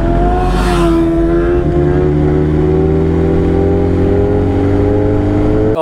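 BMW S1000RR superbike riding at steady speed, a loud, close, continuous engine drone with a strong harmonic whine and heavy wind rush, rising slightly in pitch, with no voices.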